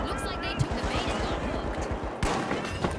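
Rapid turret gunfire in a video game rattles out in a fast continuous stream of shots, loud and close, with brief louder bursts and heavier impacts mixed in.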